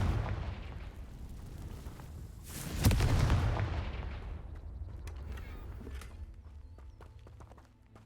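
A Confringo fire spell goes off in Hogwarts Legacy, a broad booming blast near the middle that rolls into a long fading rumble, with sharper clicks and rattles after it over steady background ambience.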